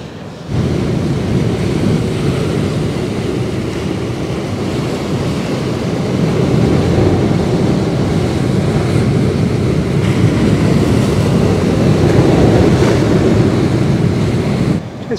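Surf breaking along a rugged coastline makes a steady, loud broadband roar of waves and wind that continues without a break, with no voices.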